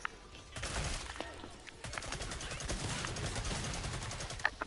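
A gun in Killing Floor 2 fires in a steady, rapid stream of shots, dense and continuous at fairly close range, with one sharper crack near the end.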